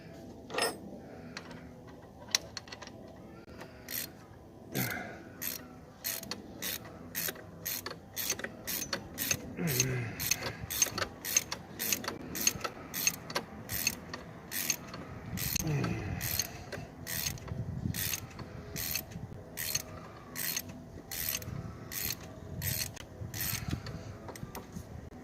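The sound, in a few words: socket wrench ratcheting a bolt on a Jeep engine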